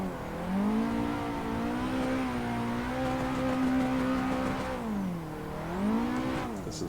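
A car's engine in the Assetto Corsa sim, drifting on a night touge-style track, holds a steady high whine for several seconds, then dips and climbs again in two quick pitch swings as the throttle lifts and comes back, with no talk.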